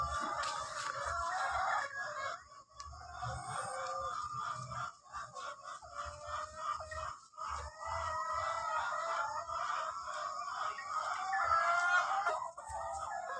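Hens cluck continuously while a rooster crows, a busy farmyard chorus at moderate distance, with no people speaking.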